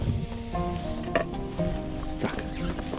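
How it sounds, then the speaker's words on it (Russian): Meat sizzling and frying over a campfire on a fishing trip by the Danube at Vilkovo, a steady loud crackling hiss filling the scene with occasional pops, close up and without talk. "Так, мяско жарится?"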